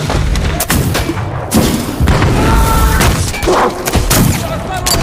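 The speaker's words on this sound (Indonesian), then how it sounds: "Ledakan demi ledakan menggema di dalam gua, disusul rentetan tembakan" Loud booming explosions and bursts of gunfire crack and thud in rapid succession inside a cave, with a reverberant, enclosed echo.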